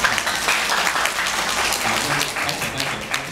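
An audience claps together during a traffic safety talk at a senior learning center in Tuku township, a dense, lively burst of applause lasting a few seconds.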